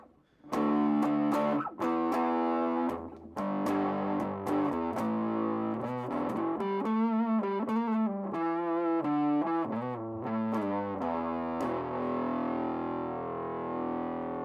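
Electric guitar through an Arion SMM-1 Stereo Metal Mastery distortion pedal with the gain at noon: loud, saturated chords and single notes ring out with thick sustain and sharp picking attacks, ending on a held chord.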